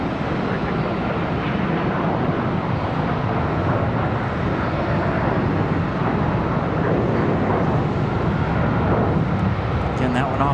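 Jet airliner landing on runway 36 left at Charlotte Douglas International Airport, a loud, steady roar heard from outdoors with heavy wind buffeting the microphone throughout.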